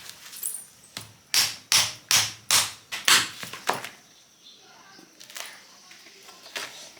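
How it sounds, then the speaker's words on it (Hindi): Hammer strikes splitting open a hard-shelled bael fruit outdoors in a village kitchen: about eight sharp, loud blows in quick succession, then a few lighter taps. "अब हथौड़ी के सहारे काटत हैं।"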